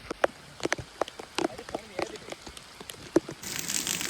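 Light rain falling outdoors, heard as scattered sharp patters and drips at an irregular rhythm over a quiet background, with a brief rise in hiss at the close.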